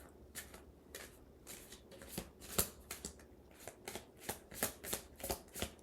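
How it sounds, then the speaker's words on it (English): Tarot cards being shuffled by hand, a steady run of crisp riffling and flicking bursts close up, with no talking. "I'm going to pull some cards to confirm these messages."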